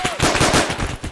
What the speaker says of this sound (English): I shot it with my sidearm.